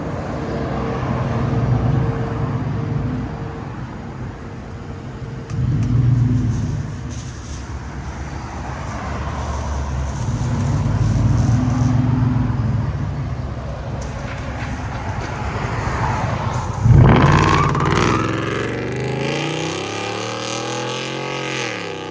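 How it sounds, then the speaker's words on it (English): A 2023 Ford F-150 with Flowmaster Outlaw true dual exhaust rumbles at a deep idle, swelling in a few slow revs before a sharp rise into a loud, rising acceleration at the end. "Ford F-150 with Flowmaster Outlaws True Duals"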